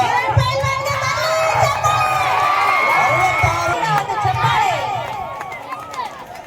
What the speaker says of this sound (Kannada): ಜೋರಾದ ಚಪ್ಪಾಳೆ ಮೂಲಕ ಪ್ರೋತ್ಸಾಹಿಸಬೇಕು